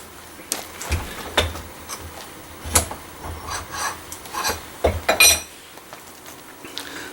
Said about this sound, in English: deburr this thing, and I'll knock all the sharp edges off of it